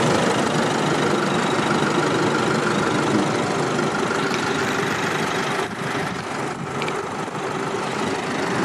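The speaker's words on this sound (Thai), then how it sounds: "นี่ครับ เสียงเครื่องยนต์" A 2016 Isuzu D-Max 1.9 diesel pickup engine idles loudly and steadily nearby, a constant rough clattering rumble with no voices.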